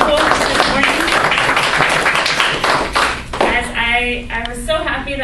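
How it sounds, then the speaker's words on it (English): A morning workshop audience claps together, hearty close applause that tapers off midway, with voices and room murmur rising as the clapping fades. "can I just have a round of applause for all of you for showing up and being so wonderful this morning?"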